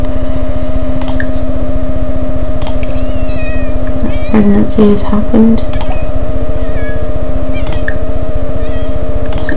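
Cat meows from The Sims 4, short rising mews scattered over a steady game music and ambient bed, with a person talking over them throughout.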